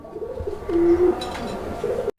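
Racer pigeons coo softly and continuously at close range, a low throaty warble with no one talking.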